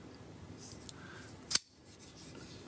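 A Kizer Crocodile pocket knife flips open by its flipper tab, giving one sharp, crisp metallic snap as the clip-point blade locks, close and alone against quiet background hiss.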